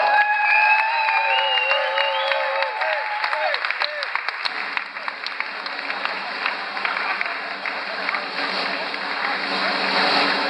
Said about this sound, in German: vielleicht nochmal einen Applaus